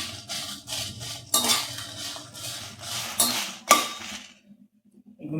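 Dried chilies roasting in a pan for tamarind rice, heard as a run of metallic clinks and scrapes of a spoon against the pan, close and fairly quiet, ending in near silence.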